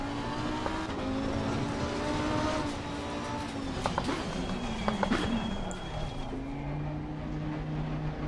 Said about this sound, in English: Oh yeah, look at that, it's just skidding.